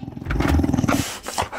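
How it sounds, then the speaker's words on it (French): Low animal growling from behind a door in a French audio drama, a sustained rumbling snarl of about a second with harmonic grit, loud and close, followed by quieter breathy rumbles, no speech over it. "il entendit des grognements derrière la porte"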